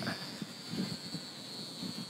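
A small 540mm PA-18 Super Cub RC model plane buzzes overhead with a thin, steady high-pitched motor whine, moderately close, over outdoor wind noise and faint voices.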